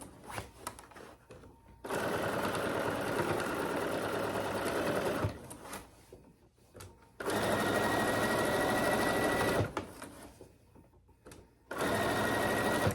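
A Bernina sewing machine stitches a leather-style crossbody wallet with a 3.2 stitch length, running in three long steady whirring bursts with brief pauses between, close and fairly quiet.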